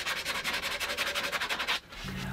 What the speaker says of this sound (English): I just cleaned that up with a little bit more sanding